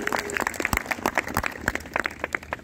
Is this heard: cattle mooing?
no